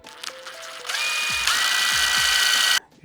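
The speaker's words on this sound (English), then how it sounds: "So we're going to have to drill out that hole just a little bit." A power drill fitted with a 3/32 bit bores out a small hole in a poseable skeleton model, whirring steadily for about two seconds with a rising pitch before stopping abruptly, preceded by brief handling clicks.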